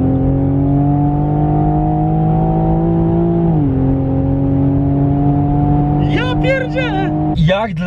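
A 2019 Toyota GR Supra engine revs loudly and close, a sustained tone that drops in pitch partway through and keeps droning, with a quick sharp burst near the end.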